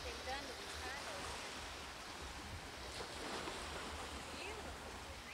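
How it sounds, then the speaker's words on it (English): Ocean waves wash onto the shore at St. Simons as a soft, continuous roar of surf, heard at low level and fairly distant, with no distinct break. "Can you hear the waves?"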